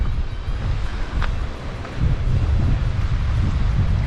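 Surf crashes onto a rocky shore near Poseidon's Temple in strong wind. Steady low roar of white water runs throughout, with gusty wind buffeting the microphone and no voices.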